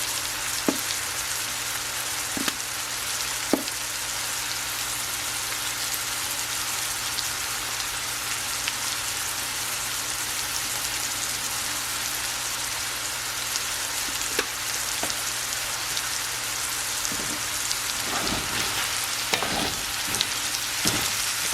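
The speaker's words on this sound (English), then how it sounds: "the shrimp is already cooking up nice" Shrimp sizzle steadily in a hot pan, a dense, even crackling hiss that runs without pause, with a few faint clicks of utensils or seasoning being sprinkled in.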